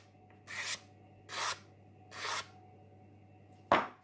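Three separate scraping strokes across the body of a 1959 Buick Electra, each about a quarter second long and evenly spaced, then a sharp knock at the end, with a steady low hum underneath.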